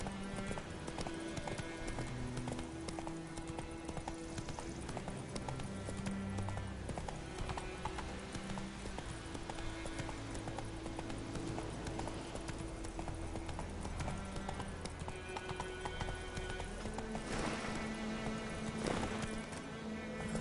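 Roach, the horse in The Witcher video game, trots along with a steady clip-clop of hooves under a continuous wash of game music and ambience, the hoofbeats even and moderately close.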